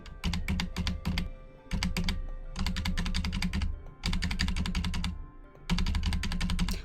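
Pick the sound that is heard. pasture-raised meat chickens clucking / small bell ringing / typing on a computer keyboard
typing on a computer keyboard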